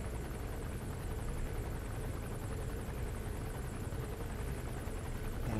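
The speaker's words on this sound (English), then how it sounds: "Why isn't that helicopter moving?" A helicopter in the video game Metal Gear Solid V gives a steady, loud rotor and engine roar that fills the whole stretch without letup.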